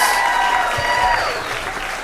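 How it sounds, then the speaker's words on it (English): Audience applause at a live storytelling event, a loud sustained wash of clapping that tapers slightly toward the end. "And keep your applause going for Bess Stillman."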